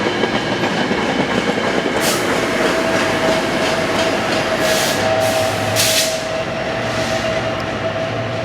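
A Metrolink deadhead train runs out of service past Fullerton station. It rumbles loudly and continuously at close range, with clattering wheels and brief higher squeals and hisses.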